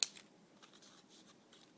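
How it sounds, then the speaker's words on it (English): A few quick, quiet snips of scissors trimming paper at the start, followed by faint soft rustling cutting sounds in a hushed setting. "trim your edges, trim off the extra paper, and it would help to use some scissors"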